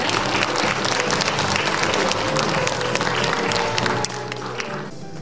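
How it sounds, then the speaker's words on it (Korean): Applause from the audience at the opening ceremony of an international peace forum, a loud dense crowd clapping with some murmuring that drops off near the end. "다시 한번 감사의 박수, 또 축하의 박수 부탁드리겠습니다."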